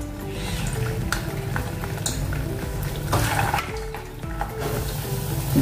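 Suji aloo vada, semolina and raw potato snacks, drop into hot oil and fry, giving a steady crackling sizzle with occasional light clinks of utensils against the pan.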